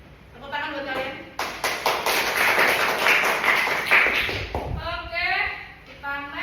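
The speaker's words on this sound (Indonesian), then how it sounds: "tepuk tangan buat kalian" A short burst of applause from a small group at a teaching session, a few seconds of clapping between stretches of a person talking.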